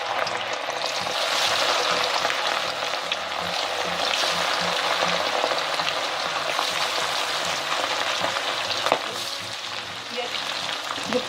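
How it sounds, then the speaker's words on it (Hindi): Fish pieces frying in hot oil, a loud, steady crackling sizzle that holds close and unbroken throughout, with no voices. "ये फ़िश के पीसेस फ्राई हो रहे"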